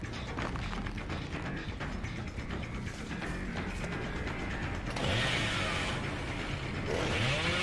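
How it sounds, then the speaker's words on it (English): Bubba revs his chainsaw in Dead by Daylight with a grinding, ratcheting mechanical roar. The roar runs continuously and grows louder and brighter in the last few seconds. "I'm revving up my chainsaw"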